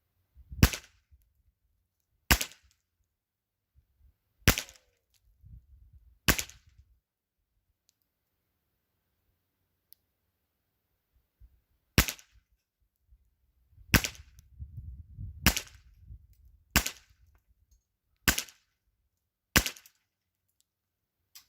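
A Ruger 10/22 heavy barrel rifle (model 01262) firing RWS ammunition, with eleven sharp, loud single shots spaced a couple of seconds apart, some followed by faint handling noise between rounds.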